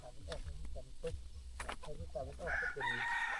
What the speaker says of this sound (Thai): ไก่ออกมาแล้วโอ้